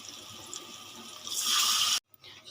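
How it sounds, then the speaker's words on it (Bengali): Water is poured into a pan of watermelon-rind kofta curry, a brief gush building over about a second before cutting off abruptly, close and moderately loud with no talking. "এবার আমি দিয়ে দেব পরিমাণ মতন জল"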